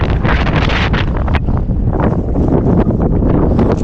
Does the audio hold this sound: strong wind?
yes